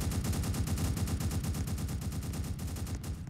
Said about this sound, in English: No, I'm shooting that cop down there.